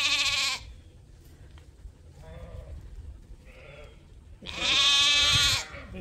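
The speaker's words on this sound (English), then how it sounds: "The lambs are all going to visit those big guys as they come out and go to the pasture." Sheep and lambs on a farm bleat loudly and close by in two long calls, one at the start and one near the end, with fainter bleats in the quieter stretch between.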